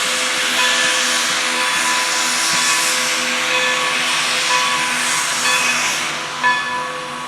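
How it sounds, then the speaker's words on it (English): Safety valves on the 2-10-0 decapod steam locomotive No. 90 blow off during a runaround move at the Railroad Museum of Pennsylvania, a loud, steady roaring hiss of escaping steam that holds for the whole stretch. "their 210 decapod-type steam locomotive number 90 is seen here making its runaround move with its safety valves going off"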